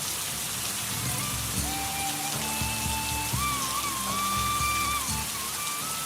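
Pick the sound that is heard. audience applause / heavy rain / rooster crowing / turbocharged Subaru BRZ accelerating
heavy rain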